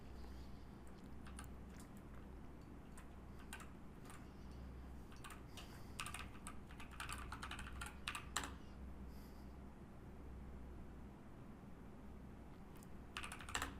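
Keys clatter on a computer keyboard in scattered quick bursts with pauses between, fairly close but soft, a brief flurry near the end, no talking.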